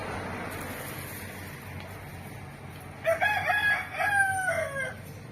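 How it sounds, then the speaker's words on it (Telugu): A village rooster crows once at mid distance over a steady outdoor background hiss, a drawn-out call lasting about two seconds near the end. "కోడి."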